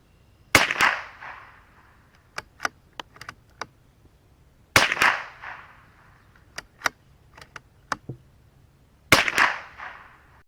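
Three sharp, close .22LR rifle reports from a Remington Thunderbolt, evenly spaced about four seconds apart, each followed by a brief echo, with small clicks and handling noises in between.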